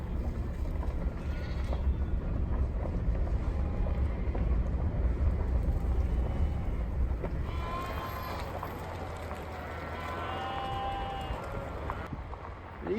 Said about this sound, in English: Making our way through the sheep once again.